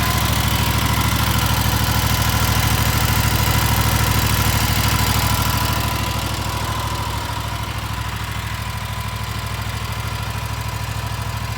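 A five-and-a-half-horsepower Kawasaki V-twin on an eXmark Lazer Z X-series lawn mower idles steadily and close, a constant low throb that softens slightly halfway through.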